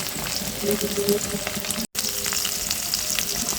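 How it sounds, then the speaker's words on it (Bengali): A large river snakehead fish fries in a pan, giving a continuous close sizzle with bubbling crackle, briefly cut off midway, then resuming. "মাছটা কিন্তু সুন্দর করে লাল লাল করে ভেজে নেব"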